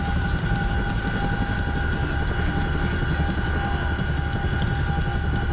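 A Chinook helicopter flies in a flight simulator game, a loud, continuous rotor and engine drone holding steady throughout.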